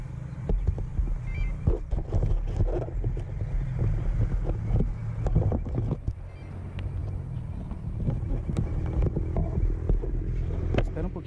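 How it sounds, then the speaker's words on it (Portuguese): Gusty wind buffets the microphone at a model airplane field, a continuous rough rumble with irregular bursts, while people talk now and then under the noise. "Espera um pouquinho esse vento."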